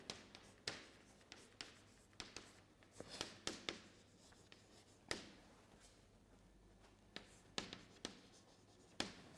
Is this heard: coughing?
no